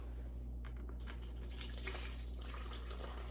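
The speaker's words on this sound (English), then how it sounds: "this is just warm water from the tap" Warm water runs from a kitchen tap into a jar holding sourdough starter, a broad hissing splash that begins abruptly after a short pause and continues steadily with no talking.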